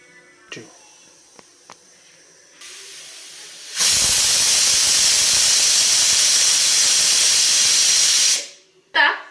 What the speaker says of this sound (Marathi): इथे कुकरची आपली एक शिट्टी झालेली आहे